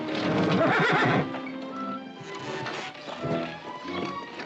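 A horse neighs loudly up close, then hooves clip-clop at a walk with another softer whinny near the end.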